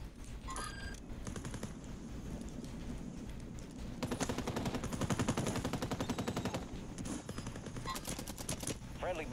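Rapid bursts of submachine-gun fire crackle from a ranked shooter match, with a sustained automatic volley in the middle and shorter sharp shots around it, mixed with faint game sounds.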